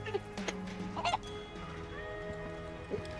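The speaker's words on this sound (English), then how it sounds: "now he's playing with chickens with the crazy lady" Chickens clucking in the Final Fantasy VII Rebirth video game, a few close, bright clucks and squawks over a steady game music and ambience bed, with no talk.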